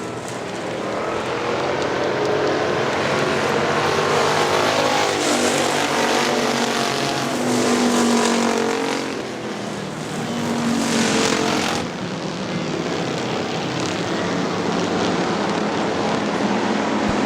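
Factory stock cars race at Hartford Speedway, a loud, continuous pack of engines roaring near, with swells as cars pass and a brief dip before the roar returns.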